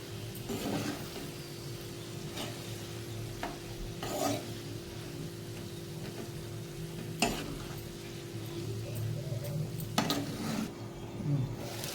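Ginger garlic paste frying in a pan for a brinjal and tomato curry, a soft continuous sizzle under steady stirring, with scattered scrapes and clicks of a utensil against the pan and no talking.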